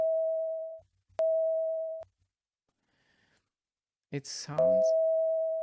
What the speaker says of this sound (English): sounds a little bit as if this sine wave would be weeping.